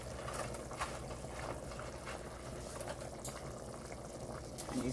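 A pot of homemade chicken noodle soup boils with fettuccine noodles in it, a steady bubbling churn that holds constant throughout and stays fairly close, with no talking.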